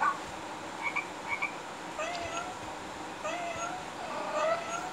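A few faint, rising meows sound over a soft, steady background hiss, spaced a second or so apart.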